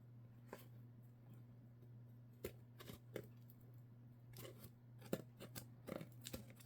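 Scissors trimming paper for a fall journal built from an old Reader's Digest: faint, close snips spaced irregularly over a low steady hum, with no talking.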